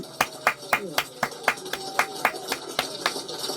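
At a campaign office opening ceremony for a presidential candidate, a small crowd claps in sharp, regular beats, roughly a dozen distinct claps with a voice talking underneath.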